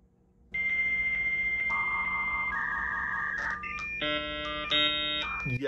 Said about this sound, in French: On avait un petit modem pour numéroter et pour connecter à Internet par le téléphone